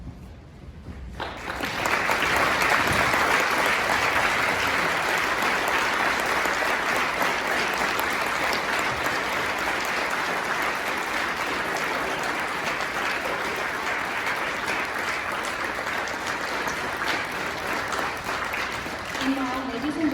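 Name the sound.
audience applause for veterans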